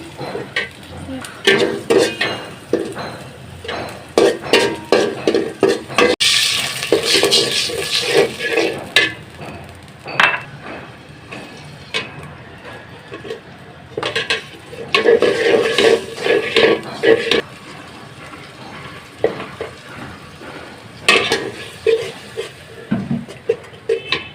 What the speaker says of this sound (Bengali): এবার একটু নেড়ে দিতেছিলাম